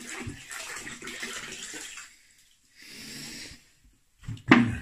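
Cold tap water splashing into a plastic tub holding vinegar, two short bursts of pouring separated by quiet, then a sharp clunk at the end.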